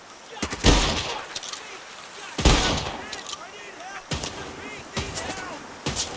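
Shotgun loaded with buckshot in the Ferocious video game fires three heavy booming blasts with sharp attacks and ringing tails, followed by quieter clicks and thumps as it is handled.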